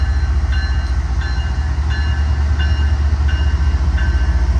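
Canadian National General Electric 4,400-horsepower diesel-electric locomotive hauling an eastbound Norfolk Southern manifest freight at Elkhart, Indiana, a loud, steady engine rumble with rolling wheels and a regular clicking beat as cars pass close by.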